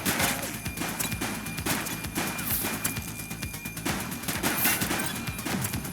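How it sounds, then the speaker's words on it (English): Gunfire during a police shootout in the video game The Precinct: dense, continuous volleys of sharp shots and impacts layered over a loud, busy background, sustained throughout without pause. "Ah! He's shooting!"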